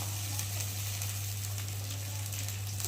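A frying pan hisses with a continuous, even sizzle as cumin paste, mustard and chopped tomatoes cook in oil for a bhola fish curry, close and steady throughout.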